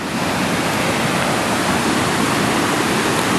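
River water rushes steadily at Capilano River Regional Park near the salmon hatchery, a loud, continuous broadband roar with strong undercurrents and no pauses or voices.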